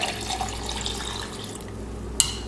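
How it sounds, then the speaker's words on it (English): Three cups of cold water pour steadily into a watermelon limeade mixture, a continuous close splashing stream that ends with a small clink. "I'm going to add my 3 cups of cold water"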